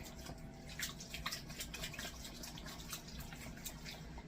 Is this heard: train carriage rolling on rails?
no